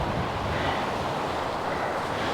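Strong gusty wind from Storm Ashley roars steadily across an outdoor garden pond, a dense unbroken rush buffeting the microphone for the whole moment.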